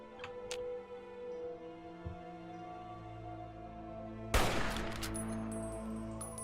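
Gunfire in Fallout 3: a few faint clicks early on, then a sudden loud blast two-thirds of the way through, followed by a ringing, crackling tail over a steady game hum.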